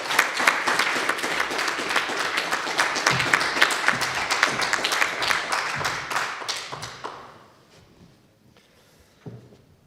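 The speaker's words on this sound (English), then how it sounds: "Let us acknowledge their accomplishments with a nice round of applause." Audience applause at a conference closing ceremony, a dense burst of clapping with distinct individual claps that thins out and fades after about seven seconds, followed by near silence and a lone thump.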